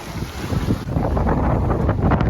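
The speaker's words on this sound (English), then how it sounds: "Just sailing with the jib." A sailboat running under jib alone at nearly 4 knots, with steady wind roar buffeting the microphone and water rushing along the hull, loud and continuous with no talking.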